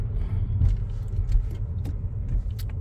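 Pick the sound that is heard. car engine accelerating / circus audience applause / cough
car engine accelerating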